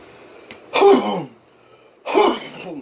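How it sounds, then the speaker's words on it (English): A person clears their throat twice, two harsh, raspy bursts about a second apart, close and fairly loud against quiet indoor background. "Let's clear my throat."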